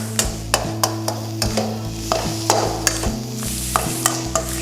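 A spatula scoops and tosses Thai fried rice in a hot pan, giving sharp scraping clacks at a quick irregular rhythm over a soft sizzle, with no talking.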